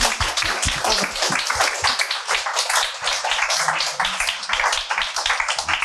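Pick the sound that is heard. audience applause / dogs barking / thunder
audience applause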